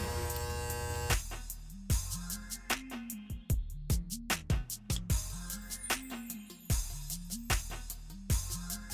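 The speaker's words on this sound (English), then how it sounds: "Use the corners of the clippers and blend right in." Electric hair clippers buzz steadily at close range while blending a low skin fade, the motor pitch dipping and recovering in quick repeated strokes with sharp clicks as the blade passes through hair.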